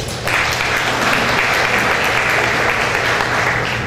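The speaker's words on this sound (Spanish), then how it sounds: "con el aplauso de todos" Loud, sustained audience applause at a science academy anniversary ceremony, a dense, even roar of many hands clapping that begins abruptly and holds steady throughout.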